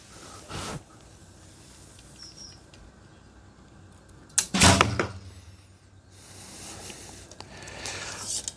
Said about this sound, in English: And I'll shoot 6 arrows, one of each.